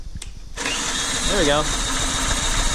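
A small engine freshly mounted solid on a chain-driven build coughs into life and settles into a steady, loud, close idle, with someone briefly speaking over it.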